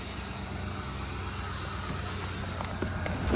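A 2007 Ford F-150 with the 5.4 engine runs steadily while driving, a low continuous engine and road drone heard from inside the cab, rising slightly at the end.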